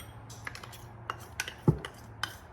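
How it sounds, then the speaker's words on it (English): A chopping knife scraping the last of the ketchup out of a measuring cup, a series of short, sharp clicks and scrapes spaced irregularly, close and fairly quiet, with no talking. "I just grabbed my knife, my chopping knife to get the rest of that ketchup out"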